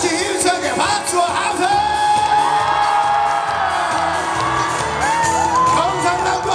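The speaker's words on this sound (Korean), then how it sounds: "다 같이 힘차게 박수와" A crowd whoops and cheers over loud trot music at a Gyeongnam specialty products fair. The sustained roar fills the whole stretch under a steady beat and a shouted vocal line.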